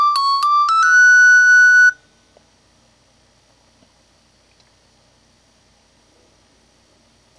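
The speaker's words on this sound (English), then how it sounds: "Guitar Hero 5 Mobile." On a Nokia E73 phone, Guitar Hero 5 Mobile plays a short rising electronic jingle of a few beeping notes ending in a held tone, followed by near silence with faint clicks.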